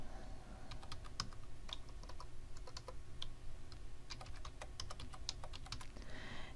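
Fingers type a license number on a computer keyboard while installing EQ8 software, producing a steady run of quick, irregular key clicks close by with no talking.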